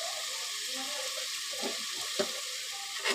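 Cashews, poppy seeds and sesame seeds frying in a pan for a mutton curry gravy, giving a steady close hiss and sizzle with faint stirring scrapes and a small clink near the end, no talk.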